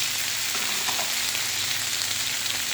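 Eggplant and onion frying together in a pan, giving a steady, even sizzle at close range that carries on unbroken and alone, with no talk over it.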